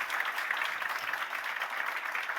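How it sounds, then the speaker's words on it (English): Conference attendees at an AI summit applaud panelists before a lunch break, a steady, moderately quiet patter of many hands heard from some distance, unbroken throughout. "give them a big applause"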